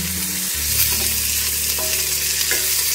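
Breadfruit pieces stir-fry in a generous amount of oil for a pepper stir-fry, giving a loud, dense sizzle. A few scraping stirs run underneath, and no one speaks.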